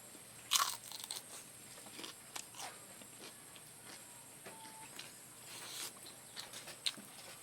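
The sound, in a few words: crunchy fried dried fish being eaten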